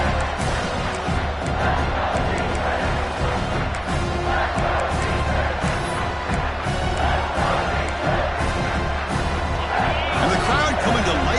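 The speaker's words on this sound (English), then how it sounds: "the crowd coming to life here, trying to help this defense down in the red zone" A football stadium crowd roars and cheers as the defense plays in the red zone, a dense continuous swell of voices filling the space, with commentary talking over it.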